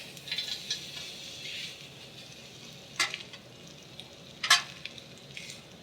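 A pork chop sears in a hot grill pan, a steady hiss of sizzling fat underlying brief sharp spatters and a couple of metallic scrapes, close and moderately loud with no talking.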